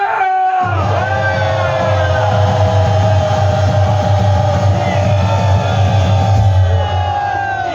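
Rally crowd at a civic security group gathering roars with a sustained loud shout and cheer, a dense wall of voices held for several seconds.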